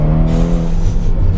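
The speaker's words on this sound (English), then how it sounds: "Just listen to how fast it shifts, right?" A Ferrari Portofino retractable-hardtop convertible's engine revs loudly and close on a tight, twisty road, with a steady deep exhaust drone and a quick gear shift mid-rev.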